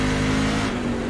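Race car engine revving hard under throttle in a sim racing game at Watkins Glen, a loud steady engine drone with a strong constant tone that dips slightly near the end.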